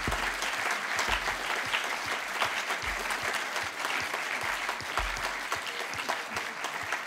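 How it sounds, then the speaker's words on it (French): An audience claps steadily after a lecture, the sustained applause holding at an even level with dense, overlapping hand claps throughout and no voices on top. "Et je pense qu'on peut encore applaudir Maître Trémollet-Villers"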